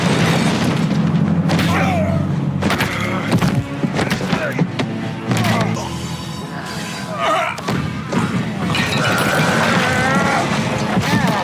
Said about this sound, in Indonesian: Babe datang sambil membawa rudal yang meluncur kencang ke arah gerbong Igor, hingga pertarungan pun terjadi